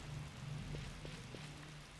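Rain falling in the video game Final Fantasy XII, a steady soft hiss of droplets on surfaces with faint low rumbling beneath, heard alone.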